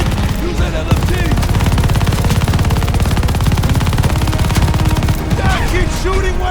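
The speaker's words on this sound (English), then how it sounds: "Use that LMG!" Light machine gun fire in the Call of Duty: Vanguard video game, a loud, continuous rapid burst of automatic shots with a few shouted voices over the top.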